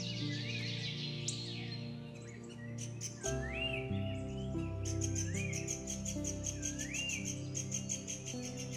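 Bulbuls feeding on champak fruit call in a series of bright, rising chirps and whistled phrases, repeated several times, clear and near over a sustained low musical backing.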